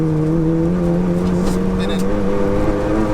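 A Stage 4 Seat Leon Cupra accelerates hard, its engine holding a loud, steady, close drone with strong harmonics for a few seconds and no talk over it.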